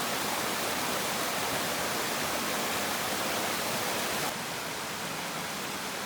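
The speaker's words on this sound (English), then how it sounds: "Some nice little cascades here." Small cascades on a brown-water river along the Overland Track in Tasmania pour with a steady, dense, close rushing roar that drops slightly in level near the end, with no voices.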